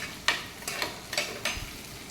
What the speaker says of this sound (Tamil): இதுக்கு நல்லெண்ணெய் போட்டு சின்ன வெங்காயம் ஒரு 100 அளவுக்கு போட்டு நல்லா வதக்கிட்டுருக்கேன்